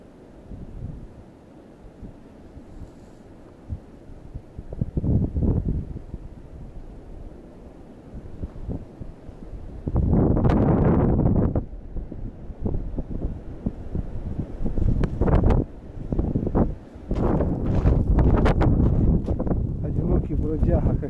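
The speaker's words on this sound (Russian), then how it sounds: "Шумит ветер." Wind blowing hard during a snowstorm, heard outdoors as uneven rumbling gusts buffeting the microphone, strongest toward the end, with footsteps or crunching underneath and no clear talking.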